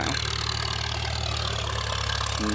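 A Kubota L4708 tractor's 47-horsepower diesel engine idles steadily with a low, even rumble, close by and continuous throughout.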